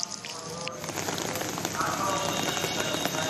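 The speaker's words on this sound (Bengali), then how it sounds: "তুমি বুঝতে পারছো যে বৃষ্টি এখনো পড়ছে, আমার মাথায় ছাতা রয়েছে" Rain falling onto an umbrella and the ground outdoors during a downpour, a dense, even patter that stays steady and close throughout, with no talk.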